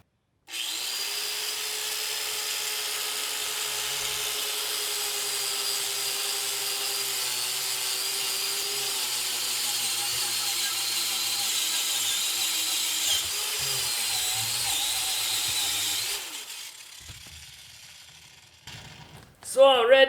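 Wire brush scrubbing old, flaking seasoning and lacquer off a cast iron pan, a steady close, loud continuous rasping with a high whine that holds for about sixteen seconds before stopping, followed by a few brief clatters.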